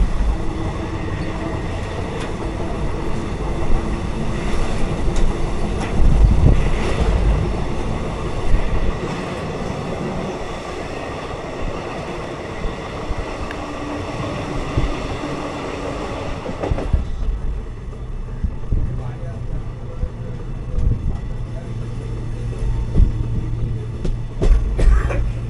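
Maa Tara Express 13187 running between Kolkata and Tarapith, a steady loud rumble of wheels and carriage noise throughout, with rattling and a drop in hiss partway through as the train nears Bardhaman.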